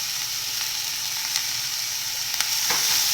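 Onions and coriander leaves sauté in a hot pan, giving a steady, close sizzle with faint stirring clicks and no talking.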